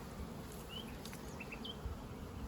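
A low, steady buzz of many honeybees at a hive hums throughout, with a few faint bird chirps scattered over it, and no one speaking.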